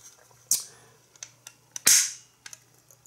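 An addressable Def manual fire alarm call point is triggered during a test, giving two sharp, close snapping clicks about a second apart, with faint ticks between them.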